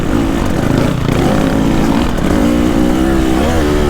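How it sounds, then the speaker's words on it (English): A Honda CRF 450 R motocross bike converted for enduro, with altered flywheel weight, gearing and suspension, rumbles close by with a loud, continuous buzzing engine note that wavers slightly as the throttle shifts. "he's got a Honda CRF 450 in front, and he's converted it to Enduro"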